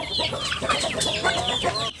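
A flock of 40-day-old farm-raised domestic chickens clucking and chattering continuously close by, with overlapping calls and no talking.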